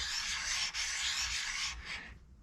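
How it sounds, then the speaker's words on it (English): Hand lapping of steel in a toolroom using Clover lapping compound, a close, steady gritty scrubbing swish that pauses briefly, then continues before fading out at the end. "Starting to push that excess lapping compound into those grooves."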